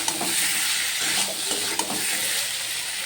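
Potatoes and soybean chunks being stirred with spices in a hot pan, a steady close sizzle with soft scraping strokes of the spoon, no talking.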